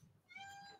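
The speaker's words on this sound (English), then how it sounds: "sorry if you can hear my cat that's just meowing because she walked in" A pet cat meows indoors with a drawn-out, rising and falling tonal cry lasting under a second, fairly close and clear, with no talking over it.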